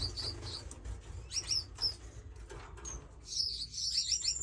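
Pet birds in an indoor bird room give short high chirps and bursts of twittering, with soft wing flutters mixed in, moderately close over a low room rumble.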